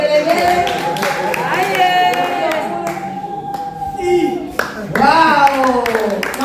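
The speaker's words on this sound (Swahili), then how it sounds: "Makofi, makofi, makofi, vigelegele." At a youth gift-giving night of the Tegeta deanery, a crowd claps steadily and high trilling ululations rise over it, with voices mixed in throughout.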